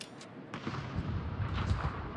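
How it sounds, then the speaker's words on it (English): Naval gunfire from a warship in an online naval battle game: a few deep booming shots with rumbling low-end decay, moderately loud with no talk. "our Almonte Grau is taking shots at that Umahari."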